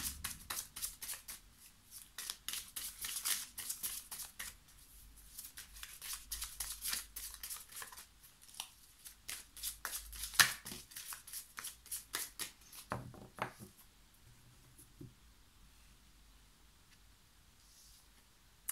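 Tarot cards being shuffled and drawn by hand, a long run of soft, rapid riffling and flicking close up, easing into sparser slides and taps of single cards near the end.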